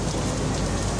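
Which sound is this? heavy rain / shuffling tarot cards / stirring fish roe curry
heavy rain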